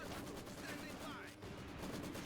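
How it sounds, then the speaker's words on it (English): Maxim machine gun fire in Company of Heroes 2, a continuous rattling burst of rapid shots blended with other battlefield gunfire and noise, quiet overall. "Good suppression coming out from the Maxim."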